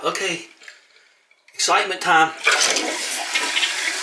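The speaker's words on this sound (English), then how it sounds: "That's the first flush." A newly fitted water closet toilet flushes for the first time, a loud rushing gush of water that starts abruptly and keeps going, preceded by brief speech and a quiet pause.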